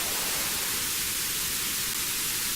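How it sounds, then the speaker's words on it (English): Steady white noise passed through a parametric EQ, a loud constant hiss with a carved-out dip in the midrange, continuous and uniform with no talk. "So if I have the white noise"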